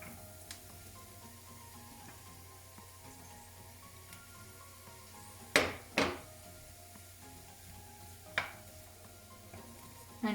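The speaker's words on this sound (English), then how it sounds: "So now I'll be adding the red onions to this." Red onions and garlic sauté in a pan with a soft, steady sizzle, broken by a few sharp clacks of a utensil against the pan.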